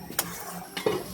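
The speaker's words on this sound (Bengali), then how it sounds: "মশলাটা কিন্তু সুন্দরভাবে কষায় নিচ্ছি" Chili, coriander, turmeric and salt fry in a pan as they are stirred, two quick metallic scrapes of a spoon over a faint sizzle, close and brief.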